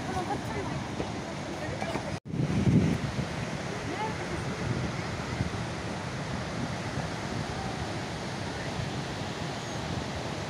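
Steady roar of sea waves and gusting wind at a beach at Sidi Rahal, with wind buffeting the microphone throughout and a brief dropout near the start.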